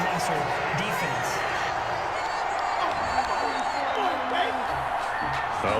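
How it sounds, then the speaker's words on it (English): A football stadium crowd grumbles and boos steadily after a roughing the passer penalty, a broad sustained roar under a commentator talking over it. "this crowd does not like that call"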